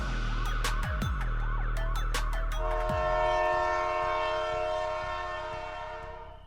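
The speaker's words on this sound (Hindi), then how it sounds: "भाई साहब, ट्रेन आने वाली है" A train approaches, its horn sounding in loud, sustained blasts over rumbling wheels and a few sharp metallic clanks, then holding a long steady tone that slowly fades, used as a sound effect in a Hindi horror podcast.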